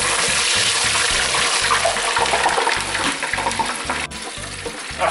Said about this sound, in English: So drain your potatoes off